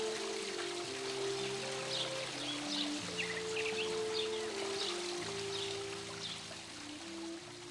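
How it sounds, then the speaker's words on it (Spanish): Constant discharge of water spilling through a boulder-choked gypsum karst canyon into a valley wetland, a steady broadband rushing flow heard alone throughout, with faint bird calls scattered above it. "en el cañón, entre el caos de bloques, se produce una descarga constante de agua que alimenta el valle"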